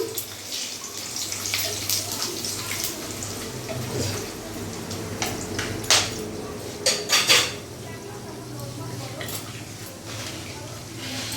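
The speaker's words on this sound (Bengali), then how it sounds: "তেলের মধ্যে আমি ফোড়ন দিয়ে দিলাম" Whole spices crackle and sizzle in hot oil as a tempering for a thin mutton curry, a soft, steady hiss broken by a few sharp utensil clinks and pops partway through.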